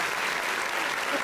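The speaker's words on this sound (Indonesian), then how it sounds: "Boleh dong kita kasih tepuk tangan untuk Verdike." A crowd claps steadily in dense applause, loud and sustained throughout.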